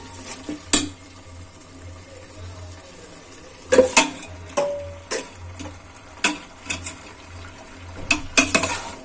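A spoon stirs chicken into Ambur chicken biryani masala with ground chilli in a pot, giving intermittent close scrapes and clinks against the metal over a low sizzle.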